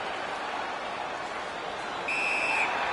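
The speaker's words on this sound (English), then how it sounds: "A whistle for an offside." A referee's whistle for an offside in the NHL 19 hockey video game: one brief, steady tone rising over constant crowd and arena noise near the end.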